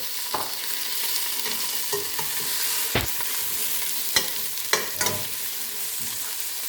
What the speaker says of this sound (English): You can hear the sear.